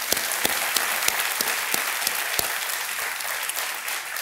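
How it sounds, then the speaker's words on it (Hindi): A studio audience on the Kaun Banega Crorepati quiz show applauds, a full, steady wash of clapping with a few sharper claps standing out near the start, loud and close, with no voices. "एक बार फिर हम करते हैं तालियों के साथ आपका"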